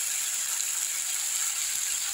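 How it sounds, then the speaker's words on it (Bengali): Onions frying in a pan give an even, bright hissing sizzle, close and steady, for a couple of seconds with no speech. "আলাদা করে পেঁয়াজটা কিন্তু আমি ভেজে নিয়ে নিই।"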